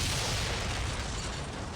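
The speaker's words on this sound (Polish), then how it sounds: "wybuchy dosyć spektakularne, nawet jeśli to jest w 2D wszystko" Explosions in the 2D strategy game M.A.X., a dense, continuous roar of blasts that holds at full loudness through the whole stretch and fades slightly near the end.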